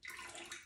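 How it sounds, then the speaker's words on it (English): Water is flicked from a wet shaving brush, a brief close splashing burst lasting under a second. "Just gonna flick some of the water out."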